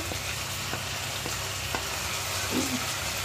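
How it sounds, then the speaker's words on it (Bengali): Potatoes fry in a pan for a spiced cauliflower, potato and pea dal, giving a steady close sizzle with a few sharp scrapes and taps from stirring. "আর এদিকে আলুটা ভাজা হচ্ছে।"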